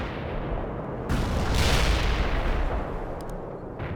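Heavy artillery fire in the war game World in Conflict: a loud booming barrage swells into a sustained roaring rumble, then fades, with distant crackle near the end.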